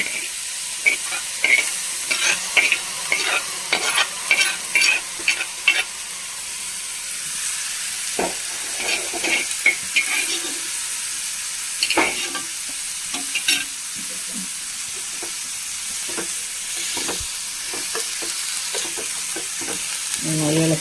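Green bean upperi with a ground paste being stirred in a frying pan, with intermittent spoon scrapes and clatters over a soft, steady sizzle, busier at first and then sparser.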